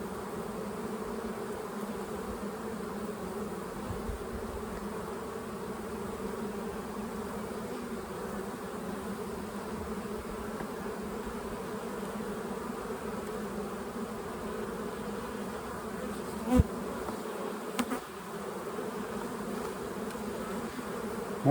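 Bees hum steadily around a hive nest being fed syrup supplements, a soft, continuous droning buzz with a couple of brief knocks near the end.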